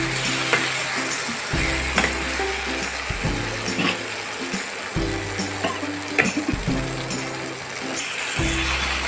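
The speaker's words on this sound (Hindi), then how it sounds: "तो यहाँ पे मेरी सब्जी हो गई है और खूब अच्छे से ये भून दी गई है" Brinjal curry with kasuri methi frying in a pan, a loud steady sizzle with stirring strokes and scraping throughout, close up.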